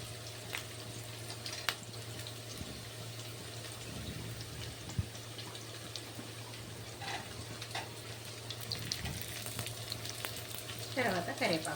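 Carrot pieces sizzling steadily in an oiled pan for chicken fried rice, a constant close frying hiss over a low hum, with a few scattered clicks and a brief scraping stir near the end.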